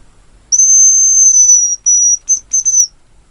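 A hazel grouse decoy whistle is blown, giving a thin, very high, piercing note: one long drawn tone, then a shorter one and several quick broken chirps, loud and close against silence.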